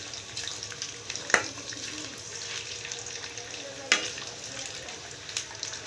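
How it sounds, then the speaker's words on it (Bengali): Potato chips frying in hot oil, crowded in a pan and stirred now and then, give a steady soft sizzle with a few sharp scraping clicks from the stirring, close by and moderately quiet. "এই চিপসটাকে হালকা নেড়ে চেড়ে সাত থেকে আট মিনিট সময় নিয়ে ভাজতে হবে"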